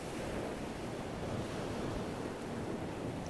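Ocean surf rolls in steadily on a hot sunny day, a continuous broad wash of waves with wind buffeting the microphone, no voices.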